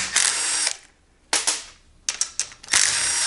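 A ratchet wrench clicks loudly and close up while loosening bolts on a GY6 scooter engine during a big bore kit install, in four bursts of rapid clicking separated by short pauses, with no talking.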